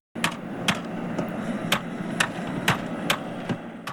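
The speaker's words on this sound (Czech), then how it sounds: "Když to nemůžeš opravit, použij kladivo." Hammer blows during a last-minute repair before a trip to Croatia, about eight sharp metallic strikes at a steady rhythm roughly every half second, close and fairly loud over a constant background hum.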